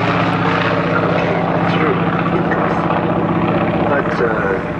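Vintage aircraft drone overhead at an air show, a steady loud propeller-engine roar that fills the whole stretch, with a voice talking over it.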